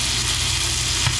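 A steak sizzles steadily in a buttered pan, a close, continuous frying hiss with a soft thump near the end as it is flipped.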